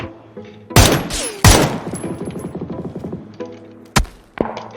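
Video game gunfire in a battle royale match: a couple of loud close shots, then a rapid volley of automatic fire, with a few later single shots and thuds.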